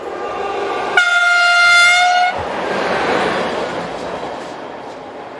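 A Class 20 electric locomotive hauling a freight train sounds a loud, steady two-tone horn for about a second and a half, then its rumble carries on as a broad, continuous rolling roar.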